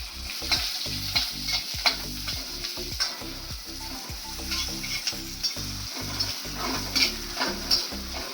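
Onion frying in a tadka with chilies, hot oil sizzling steadily while a spoon stirs in repeated scraping strokes against the pan, fairly quiet and close, with no voices.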